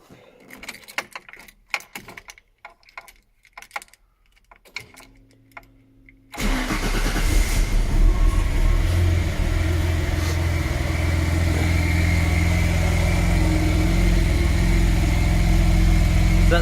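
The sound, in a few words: Noble M12 GTO 3 car engine starting with new exhaust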